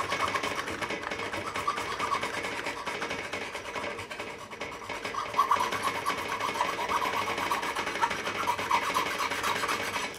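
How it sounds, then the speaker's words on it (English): A fine file rasps back and forth along guitar fret ends, bevelling them during a refret of a JJ Jewel HB90 Custom, giving close, continuous scratchy strokes at a moderate level with no talking. "Once that's done, I'll be coming across with the finer file."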